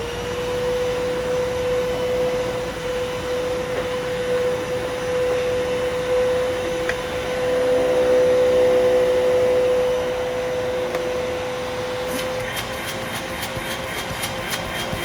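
A vintage Bissell Cleanview II vacuum cleaner runs steadily and loudly with a constant whining motor hum, slightly shifting in pitch midway, then fades into rapid ticking as it winds down.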